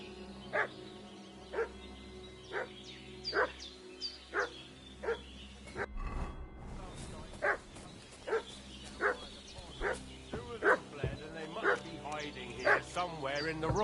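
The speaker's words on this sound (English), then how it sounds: "What's that dog making such a fuss about?" Repeated dog barks from the video game Kingdom Come Deliverance 2, steady yaps roughly every second, fairly close, with a brief rustling gap midway and continuing barking after.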